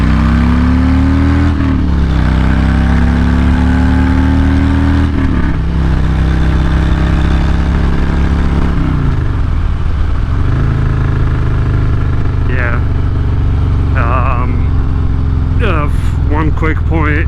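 Performance bagger motorcycle engine running loud and steady up close, with low throbbing harmonics that rise and dip as the throttle shifts, and a few brief higher squeals near the end.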